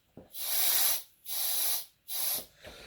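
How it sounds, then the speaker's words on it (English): A balloon for an LED tabletop display is inflated with a pump in three long hissing bursts of air separated by short pauses, close and fairly loud. "So what we're going to do is inflate this balloon."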